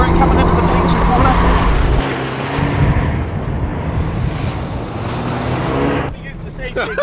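Rally car engine revving hard while drifting into the bleacher corner of a dirt handbrake course, a loud sustained roar with wheelspin noise that eases and drops away near the end, under excited commentary.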